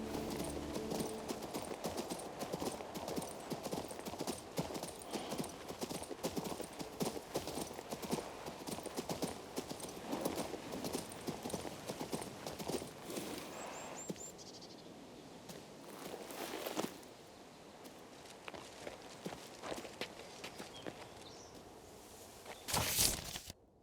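A horse ridden at a steady pace in the video game King's Bounty II, with continuous rapid clip-clop hoofbeats over faint insect chirps, slowing and thinning partway through before a brief burst near the end.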